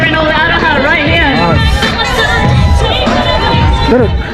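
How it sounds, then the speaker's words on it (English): A crowd at a Pink Ribbon breast cancer charity walk cheers and shouts with excitement, many voices rising and falling together, loud and close throughout. "Look at them cheering all out of her right here."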